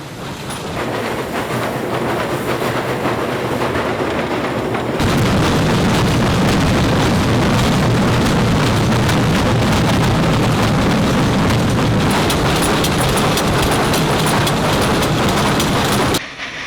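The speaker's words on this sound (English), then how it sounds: "Smoke and ash pouring out of the locomotive, and the train surging with each piston stroke." A loud, steady steam locomotive rumble on the Pikes Peak cog railway, rhythmic pulsing with each piston stroke, growing heavier partway through and continuing close by until it cuts off near the end.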